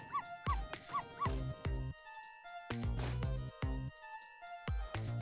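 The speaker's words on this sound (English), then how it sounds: "Mouse goes for the donut, which causes the dog to go to the door. Oh, and start barking again." A dog in the Ghost Trick: Phantom Detective game barks in short, repeated yips amid chiming game music and tonal sound effects, fairly quiet overall.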